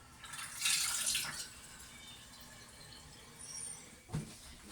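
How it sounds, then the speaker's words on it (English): Water is poured into canning jars holding frozen vegetables: a faint splashing burst, a quieter trickle, then a short final pour. "there's room to add just a smidgen more water"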